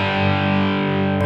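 An electric guitar played through an Amplitube 5 amp model with no pedal rings out as a single sustained, gritty distorted chord, loud and steady for about a second before it cuts off.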